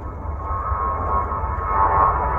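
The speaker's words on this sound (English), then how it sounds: "Looks like we've got Avianca Airbus 320 headed down to San Salvador" An Avianca Airbus A320 airliner passes near Houston's IAH airport at sunset, a steady, continuous engine roar with a low rumble, fairly loud and swelling slightly toward the end, with no talking.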